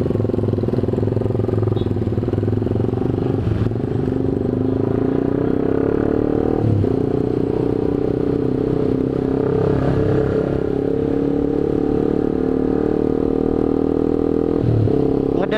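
A motorcycle pulls away at a green light in Indonesian traffic, its engine droning steadily and loudly throughout, mixed with road noise, rattles and the hum of surrounding traffic.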